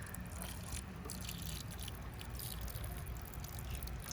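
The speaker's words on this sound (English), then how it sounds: "So I'm gonna finish pouring water on all of these rocks." Water poured over a pile of rocks gives a steady, close trickling and dripping wash that runs evenly the whole time, with no voices.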